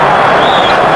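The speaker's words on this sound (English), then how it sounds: "goes the crowd's volume" Football stadium crowd at a 1990 World Cup semifinal involving Argentina, roaring in a dense, loud, continuous wall of noise that swells briefly.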